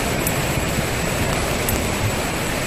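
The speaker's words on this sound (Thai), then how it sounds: "ฝนตกนะครับเพื่อนแต่ว่ามันไม่ได้หนักมากนะครับเพื่อน" Light rain falls in a forest at night, a steady even hiss of drops pattering on leaves and surfaces with no talk, constant throughout.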